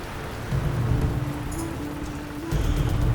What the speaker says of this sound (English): This storm just won't stop.